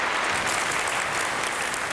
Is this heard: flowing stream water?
no